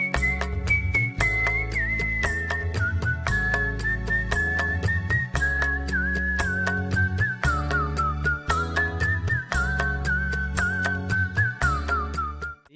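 A folk artist from Siricilla whistles a song alone, a clear sustained melodic line held over a rhythmic backing of steady beats and bass notes that carries on for the whole stretch.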